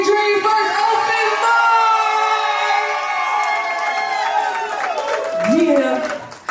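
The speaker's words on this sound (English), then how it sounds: "Can y'all clap it up for Lemonade Dream first open" An open mic crowd cheers and whoops loudly with some clapping, sustained voiced shouts riding over the noise for several seconds before easing off.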